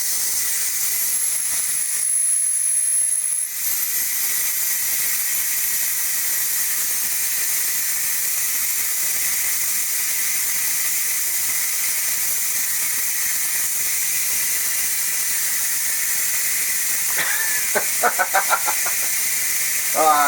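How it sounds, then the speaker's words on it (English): A pressure cooker vents steam after cooking chili, a steady loud hiss running almost the whole time, with a few brief clicks and rattles near the end. "Now, so I got to release the steam here,"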